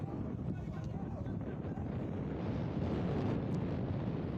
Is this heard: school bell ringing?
no